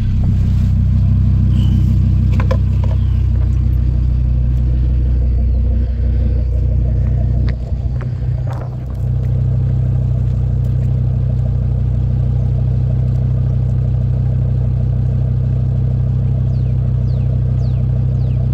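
An Audi RS3 with a modified AWE Track exhaust, heard from outside the car, idles with a steady low rumble, briefly revving louder around the middle before settling back into a constant drone.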